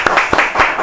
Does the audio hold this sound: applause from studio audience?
yes